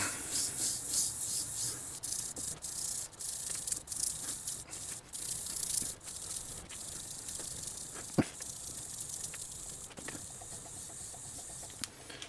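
A lawn tractor transaxle part is hand-sanded with fine 1500 grit sandpaper, a steady close scratchy rubbing in repeated back-and-forth strokes, with one sharp click partway through.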